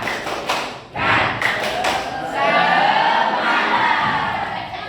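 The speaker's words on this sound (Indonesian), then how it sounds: "Tepuk semangat" A group performing the tepuk semangat clapping cheer, loud close rhythmic claps and thumps followed by a sustained shouted group cheer.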